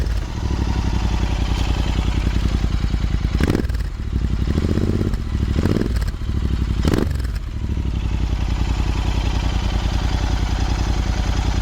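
A Royal Enfield Interceptor 650 Mark 3 with a Powerage exhaust, Fuel X Pro and NGage air filter idles steadily and close by, with a loud, even low thump and several brief clattering bursts over the rumble.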